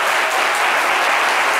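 A studio audience on a French midday television talk show bursts into warm, steady applause to welcome a guest onto the set, dense and loud throughout with no voices over it.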